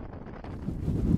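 Strong gale-force wind battering a rural area where farm greenhouses lean toward collapse and utility poles are toppled, heard as a steady, loud roar with buffeting low rumble building toward the end, no voices.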